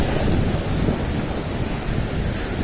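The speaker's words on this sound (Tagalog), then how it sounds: "Napakalakas ng alon." Strong sea waves surging on a shore make a loud, continuous roar of surf with heavy rumble and wind-like hiss, steady and unbroken.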